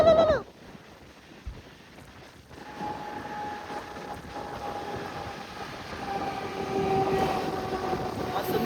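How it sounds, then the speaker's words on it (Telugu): A train rumbles through a tunnel on a Hyderabad-to-Mumbai rail trip, a continuous roaring wash that swells gradually, with faint tonal whines and a brief louder burst at the start. "ఇప్పుడు ఇలా ట్రైన్ వచ్చింది"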